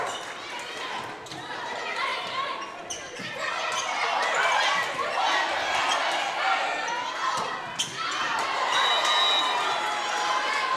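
At a women's college volleyball match point, the crowd stands and cheers in a sustained roar, with ball thuds inside it and a commentator talking over the noise.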